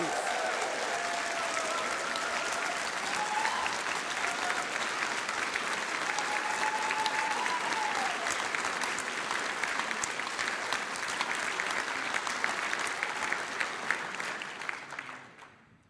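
Sustained applause from a large audience at a Green Party autumn conference speech, steady clapping throughout that tapers off at the end.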